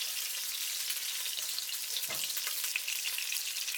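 Shrimp sizzling in hot oil in a pan for Cambodian stir-fried short noodles: a dense, continuous frying hiss with a brief clatter midway and no talking.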